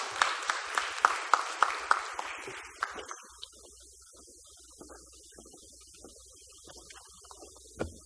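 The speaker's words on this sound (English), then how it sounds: "Give him a round of applause." Sparse, evenly spaced hand claps at a conference plenary opening ceremony: a handful of sharp claps from a small crowd over the first few seconds, then fading into steady room hum with a lone clap near the end.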